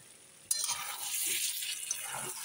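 Meat coated in ground spices hisses as it is stirred in a pan, a sudden steady sizzle starting after a quiet moment and continuing with faint scraping.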